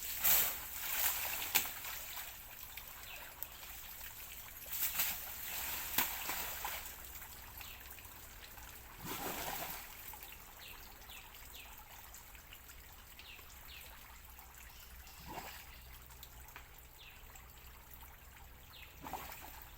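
Water trickles and babbles steadily in a shallow stream, with occasional splashes and knocks over the continuous flow.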